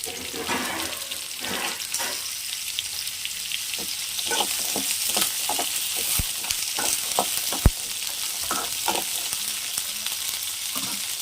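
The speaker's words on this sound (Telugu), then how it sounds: "ఈ కలింకాయలు ఆయిల్లో ఫ్రై చేసుకోవాలన్నమాట" Kalimi fruits, seeds removed, fry in oil for a sour pounded chutney, giving a continuous close sizzle broken by frequent knocks and scrapes of stirring, with one louder clack.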